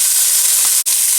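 Meatballs sizzle in a frying pan with a loud, constant bright hiss of hot fat that is cut off by a brief dip near the end.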